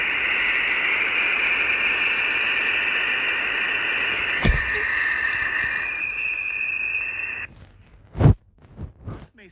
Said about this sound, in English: these sounds come from shocks in interstellar plasma